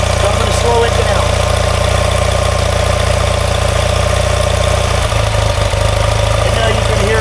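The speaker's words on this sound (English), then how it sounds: "And now you can hear your RPM dropping." A 1970s motorcycle engine, either a 1977 Triumph Bonneville or a 1973 BMW R90/6, idles loudly and close with a steady low thump, its revs audibly easing down toward a slower idle as a voice talks over it.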